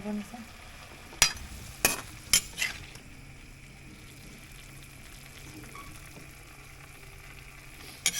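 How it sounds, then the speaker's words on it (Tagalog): Vegetables cook with a little oil in a covered pan, giving a steady soft sizzle and hiss throughout, broken early by a few sharp clanks of a utensil against the pan. "parang in-steam ko lang siya ng konti para walang masyadong mantika"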